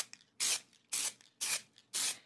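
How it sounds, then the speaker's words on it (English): Spray paint from an aerosol can hitting an art journal page in four short, evenly spaced hissing bursts, close and crisp, with quiet gaps between each spray. "if you go in little bursts like this, I'm not covering up everything below"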